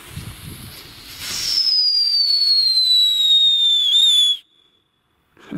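After a few pops, a whistling New Year's Eve firework gives a loud high whistle that rises and holds, its pitch slowly falling over about three seconds, then cuts off to near silence.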